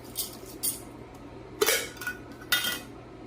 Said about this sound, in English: Now, I put the lid on it.